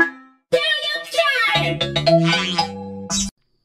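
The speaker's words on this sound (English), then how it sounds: "Space sound variation." Cocomelon intro jingle in a space-themed variation, a short processed melody of swooping synthetic tones with a warped, effects-laden character, followed by a closing burst and then silence.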